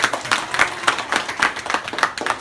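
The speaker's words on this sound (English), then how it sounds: "I'd like to give our brother A.J." Applause from the audience at a Kwanzaa event, a few seconds of steady, rhythmic hand clapping from a modest group at close range.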